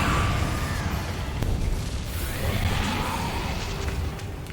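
The Confringo blasting spell from Hogwarts Legacy goes off in booming bursts with whooshing tails, loud and close, repeated through a steady background rumble.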